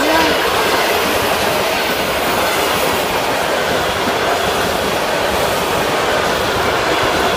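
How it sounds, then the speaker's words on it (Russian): A large train rolls past close by at a railway crossing in a riverside district of Krasnogorsk, giving a loud, continuous rumble and roar that fills the whole stretch; no crossing bell stands out distinctly above the noise. "Поезд идет. Вон он выплыл. Поэтому переход зазвонил."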